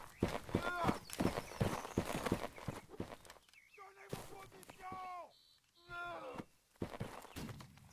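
Horse hooves in the Holdfast: Nations At War video game during a line battle, scattered clip-clop thuds mixed with gunfire and other battle noise while players talk over it throughout.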